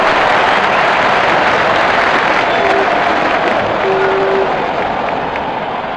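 Crowd applause and cheering after a six is hit in a Pakistan versus England cricket video game, a loud, steady roar of clapping that fills the whole stretch and fades slightly at the end.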